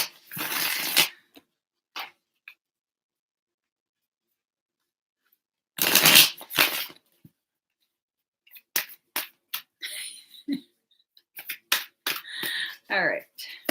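Playing cards shuffled and dealt by hand in quick riffling bursts separated by pauses, close and moderately loud, with no talking.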